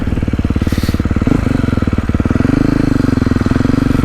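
A 2024 Beta 450RX dirt bike engine on its soft map pulls through a smooth acceleration, a loud, close, rapid-firing thump rising in pitch over about four seconds.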